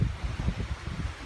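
Gusty wind after a heavy hailstorm in the hills of Murree, buffeting the microphone with low, uneven rumbling bursts that swell and fade throughout, with no voices.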